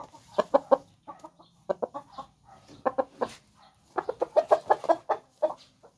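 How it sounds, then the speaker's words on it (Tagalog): A Shamo gamecock clucks repeatedly in short bursts and clustered calls, fairly close, with quiet pauses between groups of clucks. "ang ating manok ay si Shamo"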